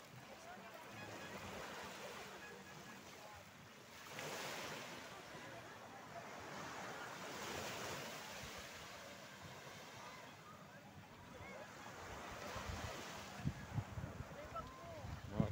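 Ocean waves surge and wash onto a crowded swimming beach at San Fernando, La Union, in slow swells, with wind rumbling over the microphone and faint voices in the distance.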